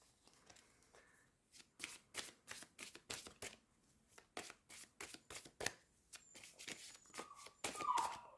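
Tarot cards are shuffled by hand, making a quiet run of rapid papery riffles and slaps in steady bursts, heard close in a still room with no talking.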